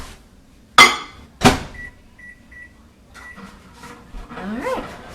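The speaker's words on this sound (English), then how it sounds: "Microwave this for 45 seconds and then stir. So let's put it in the microwave." A microwave oven heating an egg in a mug: two sharp clunks of the door and controls, then a few short electronic beeps. A low running hum follows as heating starts, close and clear.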